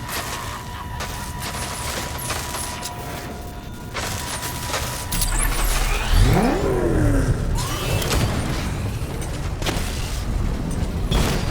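A Diamondback tank is struck in Batman: Arkham Knight: a heavy boom with a rising, sweeping mechanical whine breaks over a constant rumble of engines and machinery, and the scene stays louder afterwards.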